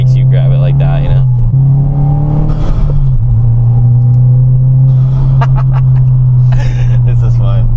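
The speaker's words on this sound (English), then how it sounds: "the exhaust is not loud at all" Modified Subaru WRX engine and exhaust while driving, a steady low drone that is fairly quiet rather than loud, rising slightly in pitch at moments, with people talking over it throughout.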